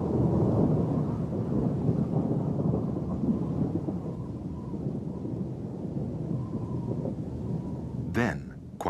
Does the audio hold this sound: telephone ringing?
no